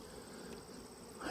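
Honey bees buzz at the hive in a soft, steady hum close by, a dense insect drone with no talking.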